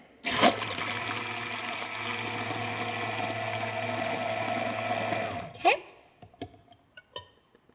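Blender whirring steadily for about five seconds while mixing chamomile facial toner, then cutting off, followed by a few light clinks and taps.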